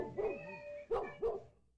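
A dog gives three barks close by, one drawn-out woof followed by two shorter, sharper ones, ending in quiet.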